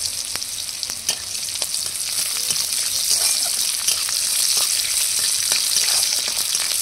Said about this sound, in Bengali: এবার ডাল তেলের উপরে দিয়ে দেবো।